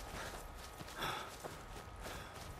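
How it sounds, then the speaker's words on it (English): Horse hooves clip-clop in the video game Skyrim, soft, irregular footfalls set against a steady wash of ambient game noise, fairly quiet and with no speech. "I can hear a horse"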